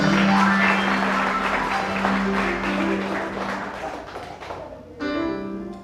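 A church congregation claps together in loud, sustained applause that fades slightly before a fresh burst near the end, with a few voices mixed in.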